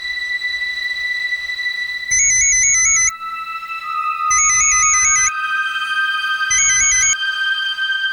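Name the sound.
phone call ringing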